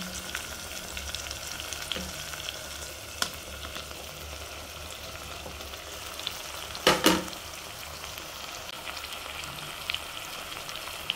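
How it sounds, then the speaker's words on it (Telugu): Cucumber pieces frying in oil in a pan for a dry fish curry, making a steady low sizzle throughout, with a few light clinks and a brief louder clatter near the middle. "ఫైనల్గా మనం కట్ చేసి ఉంచుకున్న దోసకాయ ముక్కలను వేసేద్దాం."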